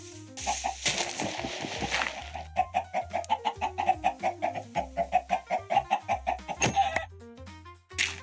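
Minecraft chickens cluck in a rapid, steady run of short pulses after a burst of rustling noise, fairly quiet, with no talking.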